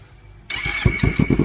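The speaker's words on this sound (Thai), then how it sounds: "วันนี้จะมารีวิวเสียงท่อให้ฟังว่ามันจะลั่นแค่ไหน" Kawasaki Z300 motorcycle with an APK aftermarket exhaust starts up after a brief quiet moment, then settles into a close, lumpy idle with rhythmic exhaust pulses.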